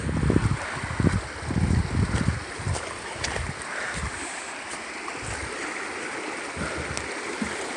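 A river swollen by flooding rushes past in a steady, dense wash of water close by, with low churning surges strongest in the first few seconds, heard alone without talk.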